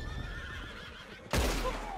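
A horse in the video game Red Dead Redemption 2 gives a whinny partway through, loud and close, over a background of game ambience and faint tonal sounds.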